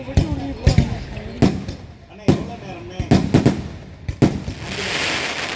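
Sharp firecracker bursts go off in an irregular string of loud cracks during a Tamil debate event, with a steady hiss building toward the end.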